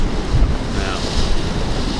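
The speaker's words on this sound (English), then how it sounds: "Okay, we have got gusts." Strong wind gusts buffet a sailboat on open water near Greece, a loud continuous roar of wind noise mixed with waves, blasting steadily across the microphone with a faint voice underneath.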